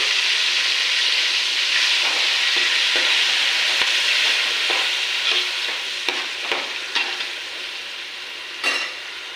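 Onion paste made from five large onions sizzles loudly in a pan, steady frying hiss broken by scraping stirs and a few sharp clicks of the spoon against the pan toward the end.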